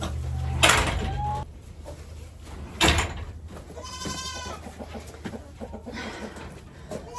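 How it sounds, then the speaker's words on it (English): A goat chewing on a bag of lime bleats a few times nearby, with rustling and thumps in between and other farm animals faintly in the background. "I got a goat chewing on a lime bag."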